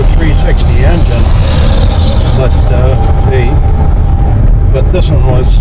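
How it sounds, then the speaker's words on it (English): Close up, the small engine of a Subaru 360 truck runs loud and steady, with someone talking continuously over the noise. "I had no idea what the noise level was of a 360 engine"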